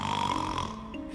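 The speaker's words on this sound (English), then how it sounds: "listen to my roommate snore like a chainsaw" Someone snores loudly with a raspy, rattling, chainsaw-like drone, one sustained snore that fades after about half a second; cartoon-style sound effect.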